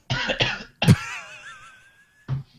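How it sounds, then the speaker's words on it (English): A person coughs twice in quick succession from a tickled throat, then gives a longer throaty hacking cough trailing into a strained vocal sound, followed by one more short cough, all close and alone. "Then it went tickled my throat. Yeah. Started coughing."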